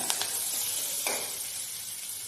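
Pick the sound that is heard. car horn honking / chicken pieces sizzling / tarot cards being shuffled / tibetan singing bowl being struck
chicken pieces sizzling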